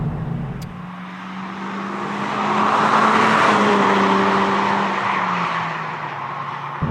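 A Honda Civic Type R FL5's engine drones steadily while driving, a low raw hum swelling with road and wind noise, then easing back, heard from inside the car.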